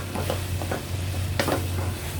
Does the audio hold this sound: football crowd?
no